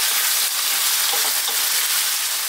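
Lentil tadka sizzling steadily in a pan as it is stirred, a dense, close frying hiss with a few faint scraping touches and no voices.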